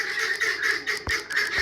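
Chukar partridges call noisily close by in a rapid run of loud, harsh, nasal cackling notes with short gaps, with no talk.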